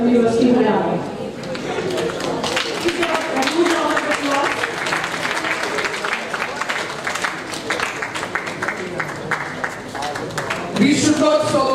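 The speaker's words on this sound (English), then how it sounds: "We should not stop applauding till the honoring ceremony is going on." Audience applauding at a national conference honoring ceremony, a steady wash of clapping from a large crowd that runs the full length, mixed with voices talking and chatter underneath.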